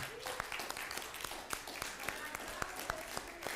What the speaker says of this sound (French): j'aimerais ça qu'on puisse donner une bonne main d'applaudissement à l'équipe de louanges qui nous a conduits dans l'adoration